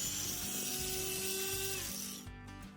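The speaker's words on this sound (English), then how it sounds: "the owner of this car said that their car sounds like an angle grinder when starting up" A car engine cranking and starting with a harsh, high-pitched grinding whine like an angle grinder, steady and loud for about two seconds before dropping away into a lower idle.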